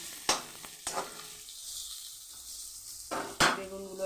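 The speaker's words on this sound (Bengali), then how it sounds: "আস্তে আমি ভেজে ফেলি বেগুনটাকে" Eggplant frying in a pan of oil, a low steady sizzle broken by a few sharp clinks of a utensil against the pan, with no talking.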